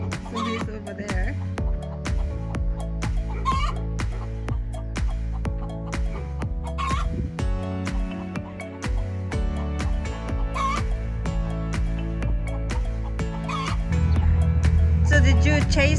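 Chickens and a rooster in a desert hoop house in New Mexico cluck and squawk in repeated bursts up close for a long stretch, with faint voices now and then.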